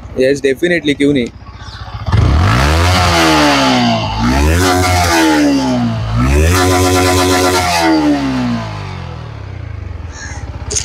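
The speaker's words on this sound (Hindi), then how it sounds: "ये था इसका एग्जॉस्ट साउंड।" A Yamaha MT-15 V2 155cc motorcycle's exhaust revs up close several times in strong rising sweeps, loud, following a short spoken remark at the start.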